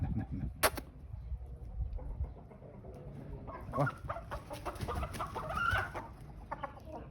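Chickens and young chicks cluck and peep in a farmyard, a sharp call near the start and then a busy stretch of overlapping clucks close by, with some background noise.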